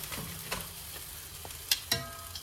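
Cheese melting in a hot pan for birria tacos gives a soft, low sizzle with a few light scrapes and clinks, close by and without talk.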